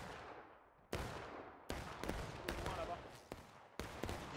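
Musket gunfire from the War of Rights game, on the Forest Stream map: a series of sharp, loud cracks spaced irregularly, some close and some more distant, with echoing tails between shots.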